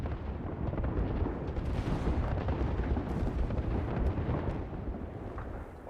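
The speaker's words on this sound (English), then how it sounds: "Airstrike." Gibraltar's airstrike ultimate in Apex Legends pounds the ground as a continuous barrage of heavy explosions, a dense rolling rumble of overlapping booms lasting several seconds at moderate distance.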